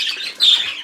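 A young, nearly fully feathered normal zebra finch gives one brief, loud, high-pitched chirp close to the microphone, with no talking.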